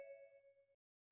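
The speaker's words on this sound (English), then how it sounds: "Try ringing that gong and picking his pocket" A gong struck once in the video game Sly 2: Band of Thieves, a clear ringing tone with shimmering overtones that decays over most of a second, followed by a short burst of another noise.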